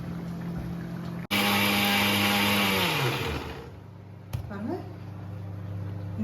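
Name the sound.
mixer grinder grinding coconut pieces and fennel seeds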